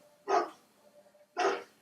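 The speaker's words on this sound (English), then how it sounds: "Sorry for the dog barking." A dog barks twice in short, loud bursts about a second apart, with quiet room tone between and no talking.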